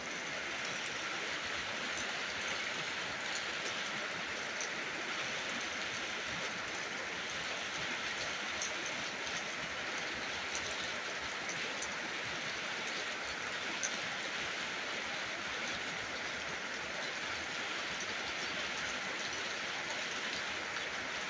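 Steady rain falling outdoors, a dense, even hiss of drops that holds without pause throughout, moderately loud and without voices.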